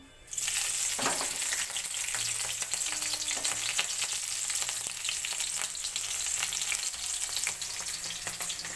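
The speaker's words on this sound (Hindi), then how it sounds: "सबसे पहले हम मिर्ची डालेंगे ऑयल में" Steady, loud sizzling of chillies frying in hot oil, a constant crackle with occasional sharper pops and stirring, no voices.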